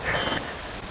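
Rain pours in a sci-fi movie scene, a dense, loud, steady hiss of falling water filling the short moment with no speech.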